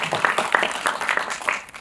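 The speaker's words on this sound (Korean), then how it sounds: "박수 부탁드립니다" A small audience at a film screening and Q&A for the movie Dustman gives brief applause, a loose patter of individual claps close by, with no talk over it.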